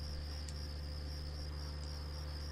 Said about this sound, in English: what if we removed the music track and added crickets?